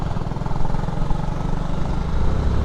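Motorcycle engine sputtering and labouring on a ride toward Valparai's hairpin bends, a steady loud rumble with uneven low throbbing throughout, no talking.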